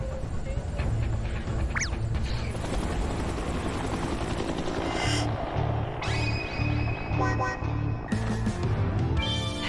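A helicopter sound effect plays on a TV variety show set, a steady loud rotor thumping and engine roar running throughout, with scattered electronic sound-effect chirps and tones layered over it.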